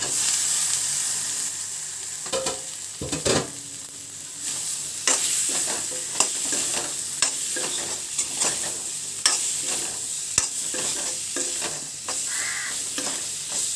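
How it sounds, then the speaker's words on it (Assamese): Cut potatoes fry in a pan with a loud, close sizzle while a spatula stirs them, making repeated scraping clatters and knocks throughout, with no one speaking. "এতিয়া মই কাটি লোৱা আলুখিনি দি দিছোঁ।"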